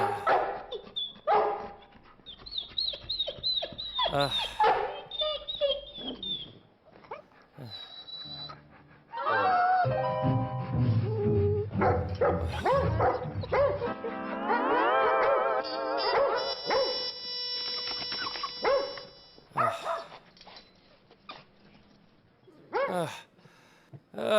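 A Labrador barks, yips and whimpers while being washed, the dog's sharp barks and whines coming close and loud in bursts, with people talking between and over them.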